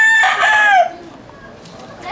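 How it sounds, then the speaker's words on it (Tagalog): A rooster crows once, close and loud, in an urban settlement in the Philippines, the call fading out after about a second into quiet background ambience. "Yung manok? Yung manok yun?"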